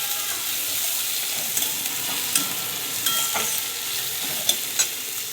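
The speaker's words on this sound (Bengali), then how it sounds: "এবারে উপর দিয়ে দেবো পেঁয়াজ, রসুন পেঁয়াজ একসঙ্গে আমি লাল করব" Onion and garlic fry in hot oil in a pan until browned, giving a loud, even sizzle up close, with scattered clicks of a spatula stirring and no speech.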